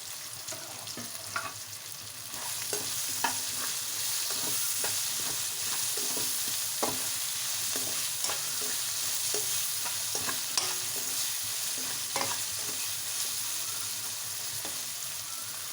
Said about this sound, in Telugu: ఆనియన్స్ ఫ్రై అయినండి ఇప్పుడు క్యాప్సికమ్ కట్ చేసుకున్న క్యాప్సికమ్ పెట్టుకోవాలి